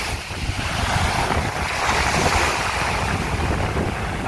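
Sea waves wash continuously onto the shore at Bali Hai Pier in Pattaya, a steady broad surf roar with wind noise buffeting the microphone throughout, no voices heard.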